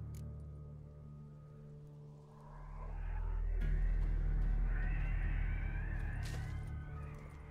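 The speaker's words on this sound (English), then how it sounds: "Oh, Nibbles, you's a naughty kitty, aren't you?" A cat named Nibbles in The Witcher 3 gives a few faint, drawn-out meows over a low rumbling game ambience that swells partway through, with no voices.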